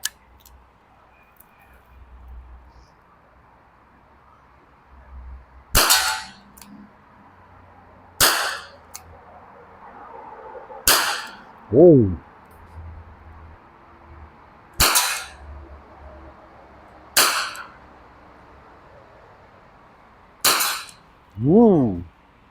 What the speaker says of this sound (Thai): ระยะ 15 เมตรครับ ซิงเกิลมดับเบิลมนะครับ มาดูว่า มันเป็นยังไงนะครับมันจะแม่นไหม